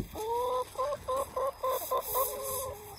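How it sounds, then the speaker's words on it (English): A laying hen clucks in a quick series of short, repeated notes, close by and fairly clear against a quiet background. "2 more chickens are laying more eggs."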